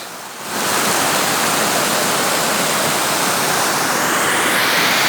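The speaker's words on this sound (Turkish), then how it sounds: "şelale ta tepeden akıyor" After a brief quieter moment, a loud, constant roar of rushing water swells up and holds steady, like a waterfall pouring close by.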